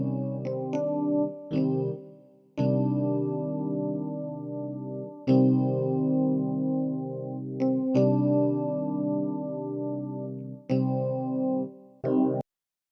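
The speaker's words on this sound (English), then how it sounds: "I got a electric piano sound from the Yamaha." Electric piano patch on a Yamaha S80 synthesizer plays a slow melody of sustained, chorus-tinged notes with soft attacks, several note changes and brief gaps, with no talking over it.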